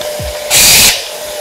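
Rowenta Compact Power Cyclonic bagless vacuum cleaner, 750 W, roars loud and close in a short broadband burst of about half a second, after a faint low thump and amid a steady hum.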